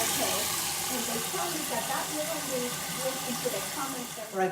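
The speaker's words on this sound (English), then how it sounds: "We're going to run water to make sure it's draining properly." Water pours into a condominium kitchen sink and down its drain, giving a steady rushing hiss throughout, with faint voices underneath and a small clunk near the end.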